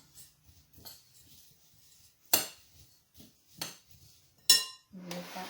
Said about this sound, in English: I need to find a spoon. I'm going to stir those up.